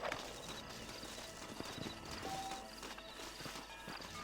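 Horse hooves clip-clop on a trail in Red Dead Redemption, an even, moderately quiet walking rhythm of thuds with faint game ambience and no talking.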